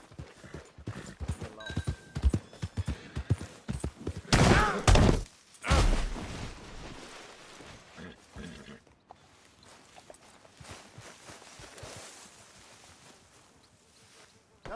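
Horse hooves clip-clop in a Red Dead Redemption 2 scene, a quick patter of steps, then two loud heavy thumps midway before fainter hoofbeats continue under ambient game sound.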